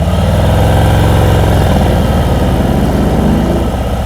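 A motorcycle engine idles and putters at slow riding speed during a slow-speed skills practice session in Illinois, a loud steady close-up chug with slight throttle fluctuation.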